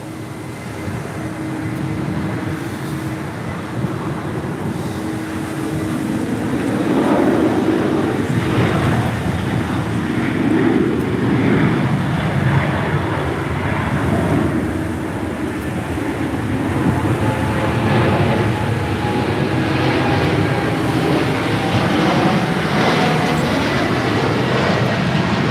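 A Boeing Dreamliner jet performs a go-around over the runway at LAX, a loud broadband engine roar that swells after a few seconds and holds steady, heard from a distance with no talking.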